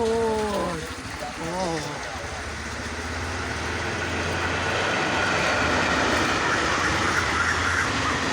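Passenger train hauled by a WAP-4 electric locomotive rolling past close by, with a steady loud roar of wheels and rail clatter building over several seconds; a brief whine sounds early on, and there is no talking.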